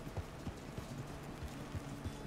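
Horse hooves clip-clopping in the Red Dead Redemption 2 epilogue, a steady, moderately paced series of soft, low thuds repeating every fraction of a second over faint background ambience.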